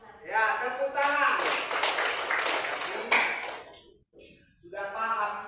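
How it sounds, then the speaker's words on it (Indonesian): A classroom of students claps in a burst of roughly two seconds that ends with a sharp final slap. The teacher's voice is heard before and after the clapping. "Ya, tepuk tangan"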